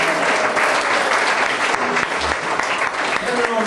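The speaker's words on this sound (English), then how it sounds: "Everybody give him a big hand." Audience clapping for a band member at a Christmas show, dense sustained applause filling the whole stretch, loud and close, with voices mixed in.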